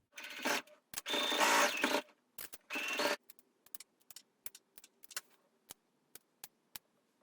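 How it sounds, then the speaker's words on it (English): A sewing machine stitches around the front facing of a Simplicity 8637 wrap dress in several short close bursts, then stops, followed by scattered light ticks and clicks of fabric handling. "So we're going to sew all the way around there"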